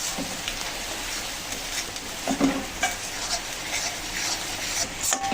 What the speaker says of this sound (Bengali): পেঁয়াজ রসুনটা কিন্তু একটু হালকা করে ভেজে নিলাম।